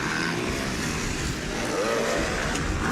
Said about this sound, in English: Bit of rev limiter there.